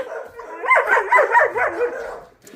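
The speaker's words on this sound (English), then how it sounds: "Here's the dogs." Several puppies bark and yip together indoors at a house, a close, loud burst of overlapping high barks that fades out after a couple of seconds.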